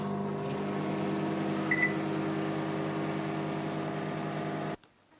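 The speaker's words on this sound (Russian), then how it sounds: "Закрываю я микроволновку и включаю еще на одну минутку." A microwave oven runs with a steady, close electrical hum while heating a wet apron, then stops abruptly near the end.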